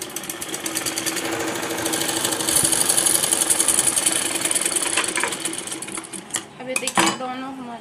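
A sewing machine runs steadily while stitching the seams of a Patiala salwar cut from cloth, with a continuous whirring hum and light rattling close by, then a few knocks and clatters near the end.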